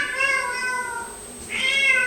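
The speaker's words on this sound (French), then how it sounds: "C'est mon chat." A domestic cat meows twice up close, a drawn-out tonal call followed after a short pause by a second rising meow, clear and alone.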